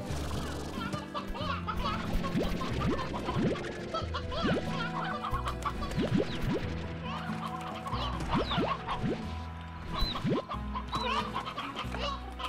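Briary hens cluck and squawk steadily in the video game Slime Rancher, several birds at once under busy background game music, fairly close and continuous.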